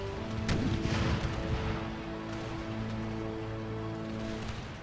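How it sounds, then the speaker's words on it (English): Cannons fire canister shot in an Empire: Total War battle, with several dull booms early on, then a steady rumbling, crackling barrage sustained over a low hum of game ambience. "these are firing canister as we speak against the enemies down here"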